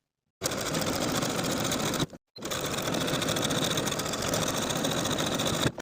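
Sewing machine stitching buttonholes on a vintage dress, a fast steady mechanical whir running loud and close, broken by one short pause before resuming.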